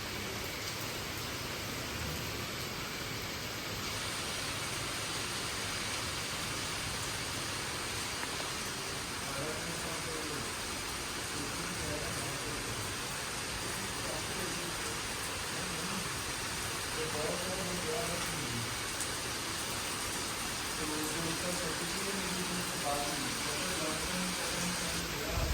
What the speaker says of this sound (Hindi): बारिश की थोड़ी सी आवाज़ सुना देती हूँ